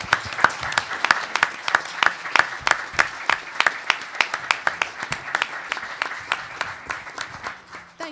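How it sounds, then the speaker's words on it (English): An audience applauds a panel at an Ohio State University sports society event on paying college athletes, with steady, moderately loud hand claps and distinct individual claps throughout, no talking over it. "Can we give all of our panelists a big round of applause?"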